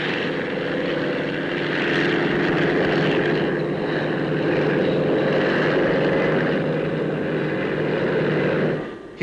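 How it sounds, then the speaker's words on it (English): A Westland Wessex anti-submarine helicopter of the Royal Navy flies at the Farnborough airshow, its loud steady turbine and rotor drone holding nearly constant before cutting off abruptly at the end. "The Westland Wessex, in production for the Royal Navy, is a very advanced anti-submarine helicopter."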